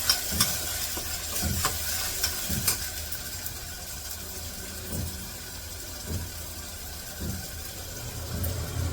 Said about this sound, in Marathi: हे टाकले लगेच हे पण वाटण परतून घेते चांगलं तेल सुटोपर्यंत सगळं परतून घेणार आहे